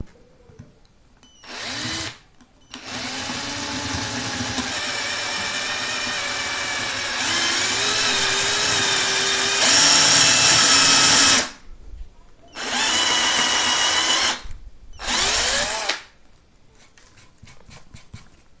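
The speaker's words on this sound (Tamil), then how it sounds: "இந்த சின்ன பிட் மூலமாக நம்ம வந்து ட்ரில் பண்ணி பார்க்கலாம்" A cordless drill with a small bit whines loudly in long bursts as it bores into brick, stopping and restarting several times, with a short pause between each run.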